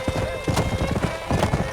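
Hooves clop in a quick, steady rhythm in the Red Dead Redemption video game, near and clear, with a horse's whinny riding over the steps in this short stretch.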